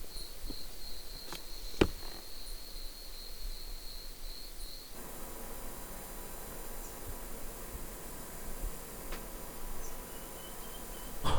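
Crickets at night at the Old Onslow Town ruins on Emu Creek Station make a steady high chirring drone that cuts off about halfway, leaving faint outdoor hiss and a few soft clicks.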